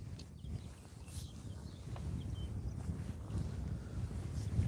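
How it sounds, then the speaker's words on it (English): Strong wind buffets the microphone at a lakeside fishing swim, a steady low rumble that gradually grows louder across the whole stretch with no talking. "God, that wind is awful."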